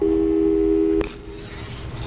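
A telephone busy tone from the video game Portal 2 sounds loudly and steadily for about a second, then gives way to a softer, noisy background.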